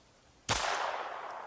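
A single sharp gunshot fired during live firing practice at a survival training camp in North Georgia, a sudden loud crack followed by a long decaying outdoor echo.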